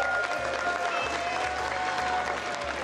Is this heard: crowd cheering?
yes